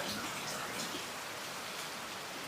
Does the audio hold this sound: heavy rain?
yes